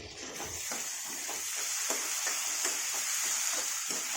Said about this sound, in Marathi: हे एक टोमॅटो कट करून घेतलेला आहे ना ते टाकून घेणार आहे